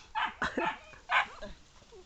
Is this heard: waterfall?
no